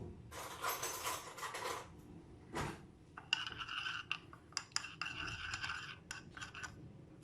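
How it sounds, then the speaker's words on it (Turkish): A teaspoon stirs yeast into warm water, giving faint scratchy scraping and clinking against the container in short irregular bursts, quiet and close, with no talking. "Şimdi yavaş yavaş ılık suyumu ekleyeceğim. Bir yandan da bir çay kaşığı ile karıştırayım."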